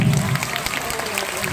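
Audience applause for Mammootty at a school arts-fest mimicry show at GHS Vadasseri: a dense, steady wash of many hands clapping from a crowd, with a faint voice low at the very start.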